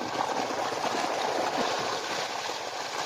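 Water runs steadily into a field with marigold flowers, a close, continuous rushing and gurgling wash with no pauses.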